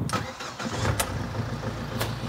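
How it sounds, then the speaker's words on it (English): A Mark 1 Ford Focus diesel turns over with a quick starter whirr, catches, and settles into a steady, close, rumbling idle with a couple of light clicks, no talk. "Shall we start the engine? Moment of truth."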